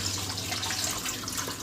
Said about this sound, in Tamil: இட்லி சட்டியில் தண்ணி ஊற்றியாச்சு